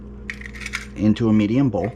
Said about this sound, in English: I'm cracking 3 eggs